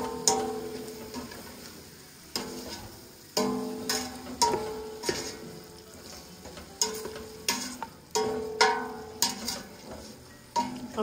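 Pasta sauce being stirred in a pot, spoon strokes scraping and clinking in an irregular rhythm over a steady simmering sizzle, close and moderately loud.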